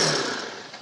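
A Zontes 350R single-cylinder motorcycle engine revs hard at full throttle, a loud, close, buzzing roar that fades slightly over a brief burst.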